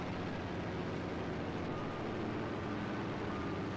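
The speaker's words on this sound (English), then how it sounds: "I'm hearing an engine right next to me." In Battlefield V, a Stuka dive bomber's aircraft engine drones close by as a steady, unbroken roar that holds at an even loudness throughout.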